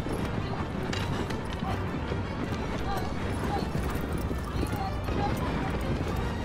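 Hooves of a galloping horse in the video game Shadow of the Colossus clop in a fast, continuous rhythm against a busy, noisy game background, with someone talking over it.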